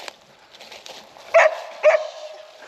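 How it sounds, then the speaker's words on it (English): A dog barks outdoors, two distinct loud barks spaced about half a second apart, surrounded by softer whimpering and yipping sounds at a moderate distance. "that's my doggy barking"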